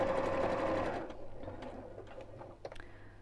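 A domestic sewing machine with its stitch length set to 2.6 runs steadily around a fabric triangle for about a second, then slows into softer, uneven mechanical ticks and clicks close by.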